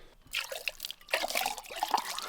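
Cold spring water from a well is poured into cups outdoors, half of it spilling, giving close trickling and splashing that pauses briefly and then resumes with gurgling bursts.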